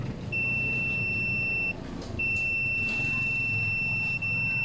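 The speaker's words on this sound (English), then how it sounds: "Continues beeping means a connection between two points." A multimeter on continuity test beeps steadily while probing an inverter welding machine's circuit board, a thin high tone holding for over a second, breaking briefly, then resuming over a low hum of background noise.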